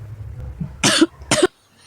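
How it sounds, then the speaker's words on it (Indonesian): Two sharp coughs from a nearby person, a short pause between them, heard after a stretch of quiet background with low murmuring. "aku mau gitu langsung batuk"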